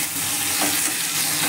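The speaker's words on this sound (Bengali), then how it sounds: "এবার এটাকে আমি ভালো করে নেড়ে চেড়ে মিক্স করে নেব" Fish curry mixture with salt, turmeric and tomato sizzles in a pan as it is stirred, a steady close frying hiss with soft scraping and no talk.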